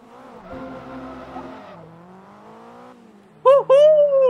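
A synthetic-sounding race car engine in Forza Motorsport 2 whines at a steady pitch, shifts down, then roars sharply higher in short revving bursts near the end.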